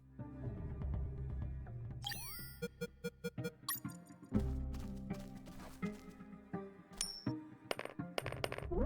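Coins drop and clatter on the ground in the video game UnMetal, a quick scatter of bright metallic clinks and pings over a low, soft music bed.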